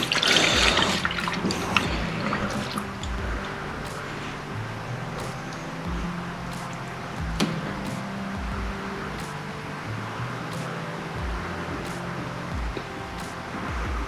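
Coolant pours through a funnel into the radiator of a Mk4 Volkswagen Jetta TDI, a steady close trickle and gurgle with scattered small clicks and drips, and no talk.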